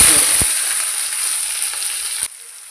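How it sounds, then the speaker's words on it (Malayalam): Ginger, garlic, tomato and curry leaves sauté in hot oil for a fish curry, producing a loud close hissing sizzle with a few stirring knocks at the start, ending abruptly. "പിന്നെ നമുക്കിത് നല്ലപോലെ ഒന്ന് വഴറ്റി കൊടുക്കാം."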